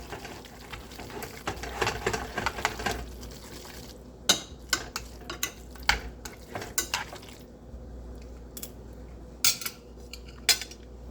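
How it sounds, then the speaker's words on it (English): Instant ramen being stirred in a bowl, with close scraping swirls and then a series of sharp clinks of a utensil against the bowl at irregular intervals. "Stir that up."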